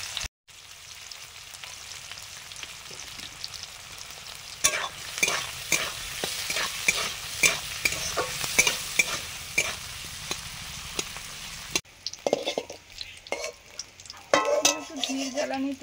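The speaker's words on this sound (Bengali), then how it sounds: "ধীর জ্বালানিতে ধীরে ধীরে করতে হয়, তাহলে ভেতর পর্যন্ত ভালোভাবে ভাজা হয়ে যায়" Chopped onions fry slowly over a low flame in a pan for a lote fish (Bombay duck) curry, giving a steady close sizzle punctuated by repeated scraping stirs of a spatula against the pan.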